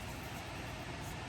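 An electric fan runs in a room with a steady, even whoosh of broadband noise. It is quiet and unchanging throughout, with no talk.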